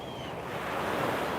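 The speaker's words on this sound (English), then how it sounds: "Soak in the colors and the sound of the waves for one more minute" Ocean waves wash in a soft, steady rush that swells slightly as it goes, heard alone in a short moment.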